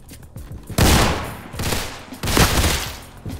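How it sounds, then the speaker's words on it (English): Gunfire in the Roblox game Criminality, with Beretta pistols among the weapons: loud, close bursts of rapid shots in two main volleys, separated by a short lull, with scattered lighter shots trailing off at the end. "Who else was shooting?"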